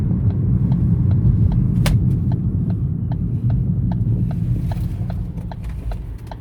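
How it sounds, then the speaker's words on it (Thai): A Ford Focus with a Powershift dual-clutch automatic transmission, out on a test drive, gives off a steady low engine rumble. A regular series of light ticking clicks runs over it, with no voices. "เดี๋ยวทดสอบขับดู อาจจะจอด จอด ก่อนออกตัวใหม่"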